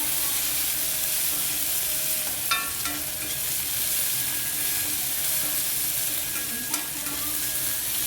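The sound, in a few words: onions and curry leaves sautéing in a pan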